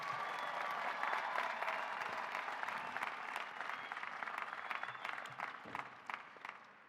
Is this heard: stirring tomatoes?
no